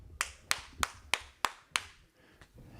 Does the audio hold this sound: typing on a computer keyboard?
no